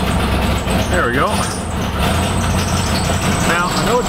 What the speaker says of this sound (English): I got a squeaky alternator belt now